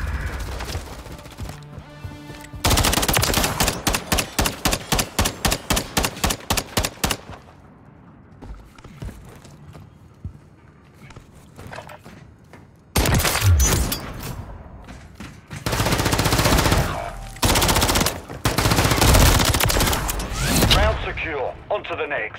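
Rapid automatic gunfire rattles in long, loud bursts during a video game firefight, broken by quieter gaps, with close, punchy shots and thuds at several points.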